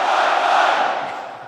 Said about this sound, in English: I know that you all have a great Australian cheer. I want to hear it.